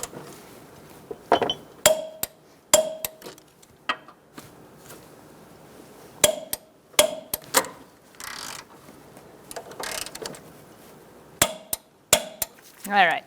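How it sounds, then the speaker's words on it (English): A torque wrench tightens an engine mount bolt on a 2012–2017 Hyundai Accent 1.6L, giving sharp ratcheting clicks in quick bursts between metallic clinks and tool handling, with occasional talk. "so we are going to torque this to 47 foot-pounds"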